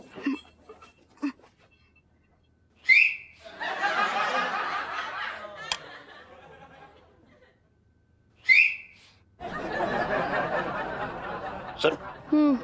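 A person whistles two short rising notes, each followed by a burst of laughter and chuckling, close and clear with quiet gaps between.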